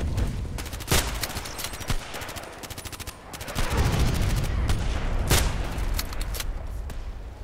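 Rapid gunfire in a sniper shooter game, with several sharp close shots standing out over a dense, steady background of crackling fire lasting throughout.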